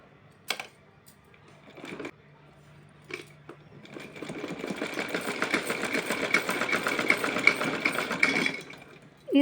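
A sewing machine runs steadily for several seconds, stitching lace trim along the edge of a small doll dress for a Laddu Gopal figure. Brief handling clicks come first, then the close, even motor whir.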